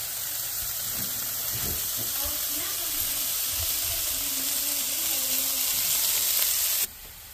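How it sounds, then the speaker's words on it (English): A chicken stir fry with sesame oil sizzles and hisses steadily in a pan, with faint stirring and steam, then the sizzle drops abruptly near the end. "we've got our vegetables covered with the lid on the pan, steaming, getting softened"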